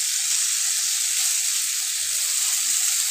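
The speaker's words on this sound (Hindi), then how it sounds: "अब हमें इसको ऐसे फ्राई करना है।" Spiced beef tikka pieces frying spread across a hot flat iron tawa, a steady bright hiss of sizzling oil holding evenly throughout with no talk.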